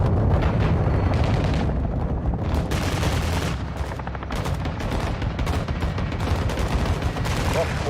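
Artillery strike in Call of Duty Modern Warfare II, a dense continuous barrage of loud booming blasts and rumbling explosions with gunfire mixed in, sustained without pause.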